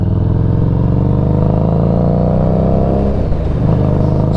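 A 2021 Harley-Davidson Street 500 motorcycle engine thrums loud and close while riding, its deep steady rumble holding even, then shifting pitch slightly near the end as the revs change.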